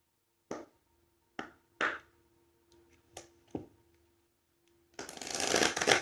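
A deck of oracle cards is tapped and riffled in several short, crisp bursts, then a sustained close shuffle at the end.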